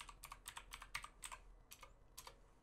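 Keys on a computer keyboard are tapped in quick bursts while a command is entered, faint and close, with several clustered keystrokes, a brief pause, then a few more taps.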